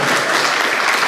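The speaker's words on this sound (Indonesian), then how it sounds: "Tepuk tangan buat teman-teman semuanya." A brief burst of dense applause from an audience at a university faculty anniversary opening ceremony, loud and continuous throughout.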